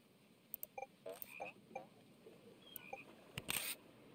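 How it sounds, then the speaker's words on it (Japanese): A frog croaks in the video game TOEM amid camera shutter clicks, with a few short, quiet, chirpy croaks scattered over a soft game background. "カエルだ、かわいい"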